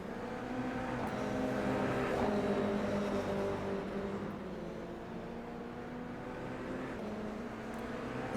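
Toyota GR86 race cars on the Chicago Street circuit in iRacing, a steady loud engine drone with shifting pitch as several cars run together, continuous throughout with no gaps.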